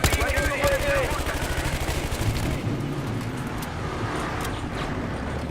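Rapid automatic gunfire from a weapon in the video game Battlefield Hardline, a fast rhythmic string of close, loud shots for a few seconds, then softer scattered shots and background game noise.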